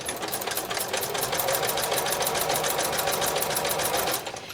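Sewing machine stitching quarter-inch elastic onto underpants with a wide zigzag, a steady fast mechanical whir with even rapid needle beats, close and continuous, stopping just at the end.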